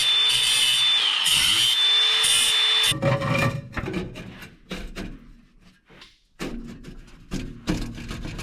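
Flex exhaust pipe being cut for Kenworth T800 stacks: a whining power-tool cut runs for about three seconds, then rough bursts of sawing and grinding follow, close and loud, with no voices.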